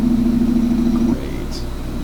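A car passes on a road, its steady engine drone loud and close for about a second before dropping away to a lower rumble as it moves off.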